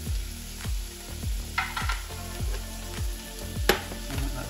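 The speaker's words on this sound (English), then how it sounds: "Now while these are cooking through, I'm going to pop in some vermouth." Vermouth hisses in a pan of vegan lobster linguine with a steady sizzle. A regular series of soft thumps runs underneath, with a few sharper clinks.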